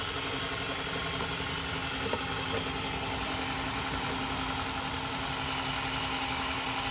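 A 2010 Toyota Camry engine idles roughly with a misfire, a dense, steady mechanical drone with low vibration heard up close, with a couple of faint knocks along the way.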